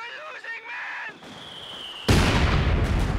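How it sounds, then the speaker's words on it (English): Mortar fire in a Company of Heroes 2 two-versus-two match: quieter battle noise and tonal effects give way to a sudden loud burst and a sustained rumbling roar. "Dodges away from that mortar fire."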